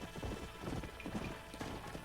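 Horse hooves clip-clop in a steady, close rhythm as riders approach the old Pleasance house in Red Dead Redemption, with dense game ambience around them.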